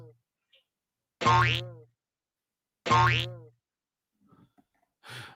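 Two springy, cartoonish boing sounds, each a wobbling twang that falls off, separated by silence, followed by a brief faint noise at the end.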